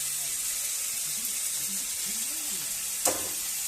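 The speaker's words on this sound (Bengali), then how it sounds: "এবার সে পেঁয়াজ শসা টসা দিয়ে দিল কড়াইতে" Onion, cucumber and other vegetables frying in a kadai for vegetable chowmein, with a steady soft sizzle throughout, a faint voice underneath and one sharp clink of a utensil near the end.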